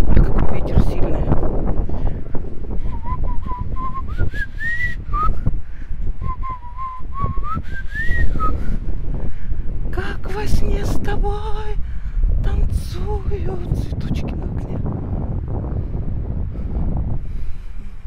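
Strong wind buffets the microphone with gusty, roaring rushes throughout, while a voice speaks intermittently and faint whistling tones rise and fall.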